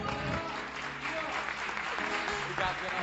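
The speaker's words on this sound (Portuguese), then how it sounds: "E as palmas são para Jesus." A church congregation claps during a communion service, dense sustained applause filling the room while a voice speaks over it.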